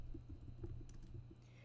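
Soft, quick computer keyboard typing as a file name is entered, a faint run of light key taps over a low hum.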